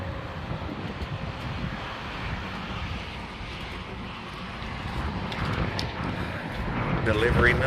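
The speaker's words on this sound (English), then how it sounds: "It's windy a little bit." Steady outdoor wind buffets the microphone in a broad, continuous rush, growing a little louder toward the end, with faint rustling of debris blowing around nearby.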